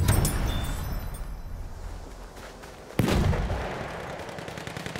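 Sniper rifle fire in the World War I shooter Battlefield 1: a loud single gunshot crack near the middle over continuous rumbling battlefield noise, with other distant shots and blasts before it.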